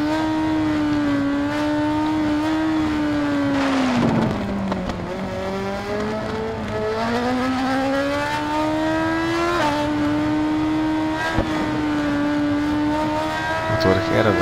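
A 2004 Yamaha R1 motorcycle engine in the racing game RIDE 4 drones and climbs through revs, dipping at a shift or braking point before pulling up again, steady and prominent throughout.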